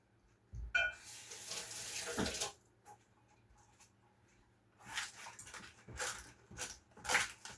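Water runs from a kitchen tap over fingers in two bursts, a broad splashing hiss that stops, then returns unevenly with some small knocks, fairly close and moderately quiet, with no talking.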